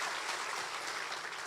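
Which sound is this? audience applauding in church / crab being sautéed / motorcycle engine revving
audience applauding in church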